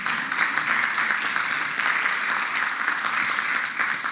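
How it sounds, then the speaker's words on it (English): A conference audience applauds a group of religious sisters again, a steady, evenly sustained wash of many hands clapping that holds at a moderate level without pause. "Shall we clap for them once again?"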